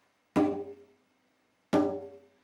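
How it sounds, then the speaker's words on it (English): Two separate hand strikes on the edge of a djembe (tone strokes), each a bright, ringing slap with a quick decay, spaced about a second and a half apart with silence between. "so on the edge of the drum, it's called tone"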